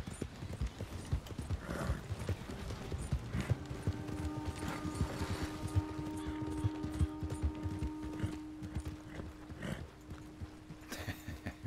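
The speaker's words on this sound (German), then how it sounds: "Oh, mein Pferd bockt." Horse hooves in the game Red Dead Online, a steady clip-clop of galloping over ground with a whinny as the horse bucks, moderately close and heard alone.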